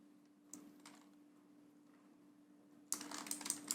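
Computer keyboard typing while entering data into an Excel spreadsheet: a few faint, sparse key clicks over a low steady hum, then a quicker, louder run of keystrokes near the end.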